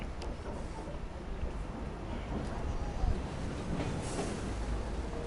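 A noisy passenger train runs on, a steady, loud rumbling roar with a gusty, windy hiss and low clatter throughout, unbroken for the whole stretch.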